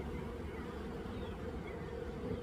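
Russian honeybees hum and buzz in a steady, faint drone as a package of bees is installed into a ten-frame hive, with no voices over it.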